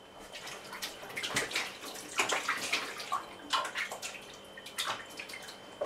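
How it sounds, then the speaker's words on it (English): Running water splashes into a sink in a home kitchen while greasy hands are rinsed during bread making, with irregular splashes and drips close by and no talking. "I'm gonna wash my hands quickly."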